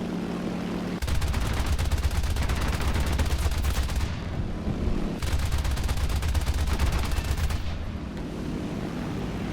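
Bursts of rapid fighter cannon and machine-gun fire from a J2M2 aimed at a B-25 bomber in War Thunder, two long sustained volleys of dense clattering shots over a steady engine roar, with short pauses between.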